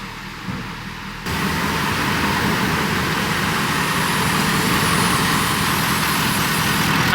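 Ford 6.7 Powerstroke diesel truck engine, converted to run without a CP4 pump, cranks and fires up, then settles into a loud steady running rumble close by.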